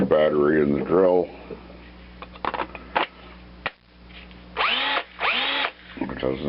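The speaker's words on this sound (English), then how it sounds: "Follow that up with a small little drill bit." Cordless drill with a small bit drilling into metal on a Ford LGT 14D lawn mower, short whining bursts that spin up and stop, close by, with someone talking between them.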